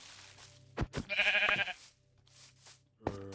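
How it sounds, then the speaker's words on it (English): Sheep bleating in the Minecraft video game: a couple of short, near bleats over a quiet background with soft low hum. "Sheep are top priority."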